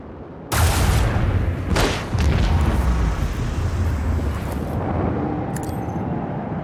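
Torpedo explosions in the space combat of the video game Warhammer 40K Rogue Trader: a sudden loud blast starts a dense, roaring barrage, and a second burst follows it. The rumble then fades slowly into a long sustained tail, with no talk.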